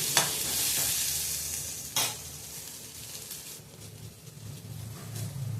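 Onions and vegetables for ridge gourd chutney sauté in a pan with a soft, continuous sizzle, punctuated by two distinct spatula scrapes against the pan and lighter stirring noises, with no voices.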